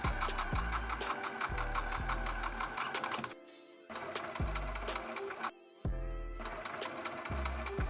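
An electric sewing machine hems a folded raw fabric edge: a close, loud, rapid mechanical chatter in bursts of a few seconds, with brief pauses where the needle stops.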